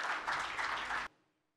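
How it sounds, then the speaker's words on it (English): A conference audience gives a brief burst of clapping for a panelist arriving at the stage. The clapping is dense and steady for about a second, then cuts off abruptly. "give him a warm round of applause"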